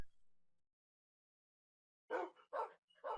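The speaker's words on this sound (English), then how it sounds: "let's get away from the barking horde, and yes, I have too many wolves" Tamed wolves in Minecraft barking, three quick sharp barks in a row after a near-silent gap, close and clear with no talk.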